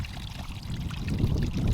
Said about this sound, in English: you'll also see the water flowing down through the little gully that we've created.